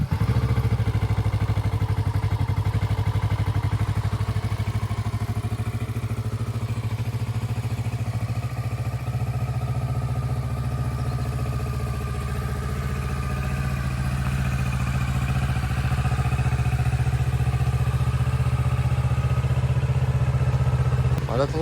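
A 2017 Kawasaki Ninja 650 KRT idles steadily while warming up, a loud continuous low engine drone with faint rattling that holds even from start to finish.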